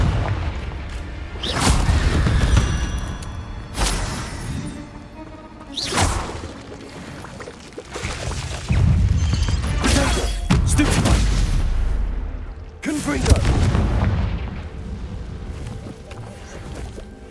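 Confringo spell explosions in the Hogwarts Legacy video game: a series of heavy, booming blasts, five or six in turn, each with a rumbling tail and crackling debris over continuous game ambience.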